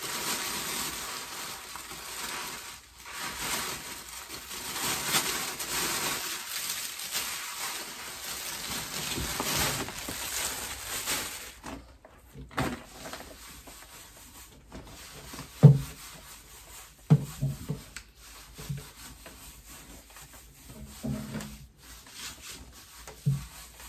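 Old hamster bedding from a previous enclosure is sprinkled into a cage, making a soft, steady, rain-like rustle and scattering hiss, followed by sparser taps and small thumps as the pieces settle.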